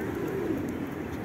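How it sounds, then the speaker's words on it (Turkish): Pigeons coo around the Victory Monument and Atatürk statue in Ulus, a soft, low, murmuring coo set against steady outdoor background noise. "Burada çok güvercin var. Her yer güvercin."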